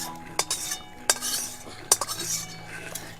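A metal spatula clinks and scrapes against a kadai in a few sharp knocks while fried onion and capsicum are stirred into chicken, cooked village style, the strokes close and fairly quiet.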